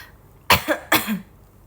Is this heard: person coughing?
yes